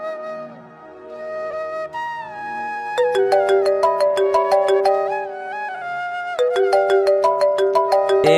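A mobile phone ringing with a melodic ringtone, bright repeating chime-like notes that grow louder after a short soft intro, close and alone without talk.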